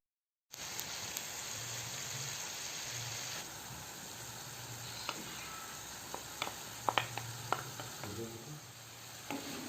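Rinsed, drained rice tumbled into a hot pan and stirred, giving a steady low sizzle with soft scraping and a few sharp clinks of the utensil near the end, with no voices.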